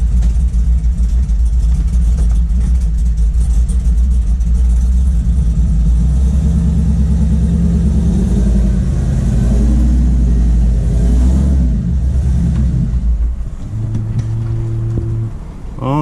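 A deep, rumbling cammed Chevrolet Silverado 5.3 LS V8 pickup drives steadily on a back road, loud and close, with a throaty exhaust throughout before easing off near the end.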